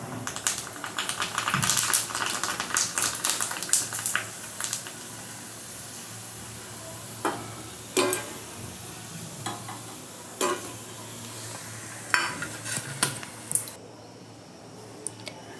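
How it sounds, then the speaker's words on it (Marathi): Puris for panipuri frying in hot oil: a busy crackling sizzle with bursts of bubbling and occasional clinks of a slotted spoon, close and alone, easing to quieter spells toward the end. "अशा प्रकारे मी छान सर्व पुऱ्या तळून घेणार आहे"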